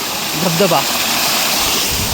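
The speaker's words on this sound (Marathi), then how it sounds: "बघा इथं पण एक छोटा धबधबा." A small waterfall pours in a constant, full rushing hiss, with a brief voice rising over it partway through.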